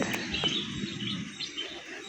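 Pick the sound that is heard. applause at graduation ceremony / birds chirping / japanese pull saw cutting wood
birds chirping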